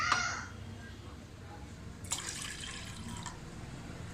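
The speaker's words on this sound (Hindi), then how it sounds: "ऑन करने के बाद हम इसमें पानी अपना ऐड करेंगे।" Water poured into a pot on a gas stove while making Kashmiri kahwa tea: a soft, steady splashing stream, brief and close, with a brighter burst of pouring partway through.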